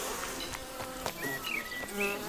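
Bees buzz close by, a busy insect drone with brief whining passes as individual bees fly near.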